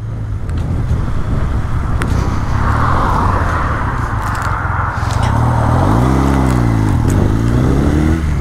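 A Honda Benly motorcycle engine runs off road, loud and close, with a steady chugging drone, some scraping and crackling, and revs rising and falling in the last few seconds.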